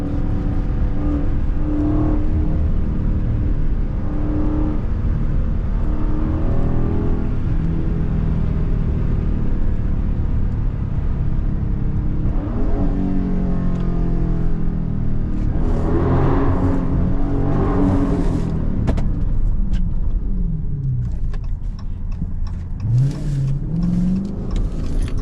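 A 500 hp Dodge Charger Scat Pack Widebody Last Call in track mode, heard from inside the cabin with the rear windows down, gives a loud continuous engine rumble that swells as it accelerates and revs.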